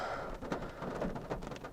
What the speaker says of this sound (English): Rainy. Real rainy.